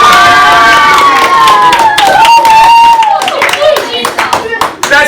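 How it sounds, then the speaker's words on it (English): Middle school students in a classroom applaud and cheer for a game show contestant, loud continuous clapping with shouts and a sustained voice over the top throughout. "A round of applause for our next contestant"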